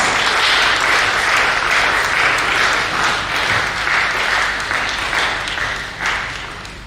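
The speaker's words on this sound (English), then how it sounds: "Please, welcome him to round of applause." Warm, loud applause from a gathered audience welcomes a performer to the stage, a thick continuous roar of clapping that holds strong and then gradually thins toward the end.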